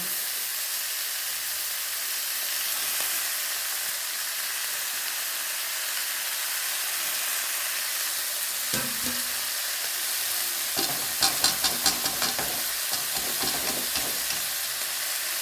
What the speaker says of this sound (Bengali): এবার এই বাঁধাকপিটা দিয়ে দেবো।